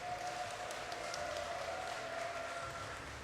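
A crowd at a StarCraft II Terran-versus-Zerg esports semifinal applauds German player HeroMarine with steady, broad clapping and cheering that holds for the whole stretch at moderate level.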